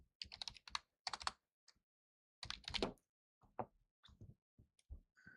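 Typing on a computer keyboard comes in short, irregular bursts of close, crisp key clicks separated by brief silences.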